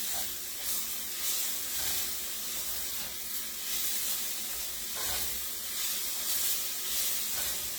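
Meat sears in a hot pan as gravy preparation begins, giving a steady, fairly quiet sizzle and hiss that runs throughout with no talking.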